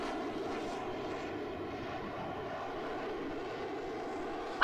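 Simulated RC airplane engine in a flight simulator game, a steady droning propeller hum holding an even pitch throughout, moderate in volume with no voices, ending in a brief sharp burst.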